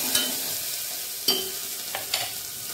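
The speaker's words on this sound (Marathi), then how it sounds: "थोडंसं परतून घेऊया।" Red and green chillies and onion sauté in a hot pan for khichdi, a constant loud sizzle punctuated by three or four sharp scrapes of a stirring spoon.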